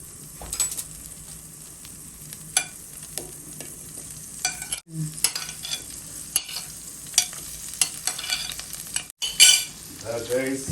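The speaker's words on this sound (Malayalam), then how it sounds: "നമുക്ക് ചെറിയ ഉള്ളി ഇടാം" Oil crackles and sizzles steadily as shallots are stirred in a hot pan, with sharp metallic clinks and scrapes now and then.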